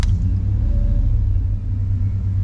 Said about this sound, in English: let me fire this Chevy 350 up